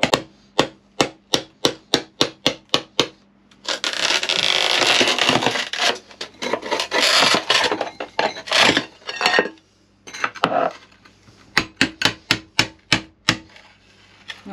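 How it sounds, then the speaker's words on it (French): Hammer blows knock old tiles off a shower base in a converted truck camper. Sharp rhythmic strikes come in quick bursts, broken by stretches of scraping and grinding rubble, close and loud. "on commence par faire sauter tout le carrelage. Donc là au marteau et au bourrin."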